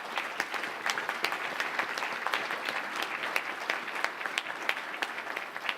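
An audience applauds singers and a band at a school class night ceremony, dense steady clapping from many hands filling the hall without pause.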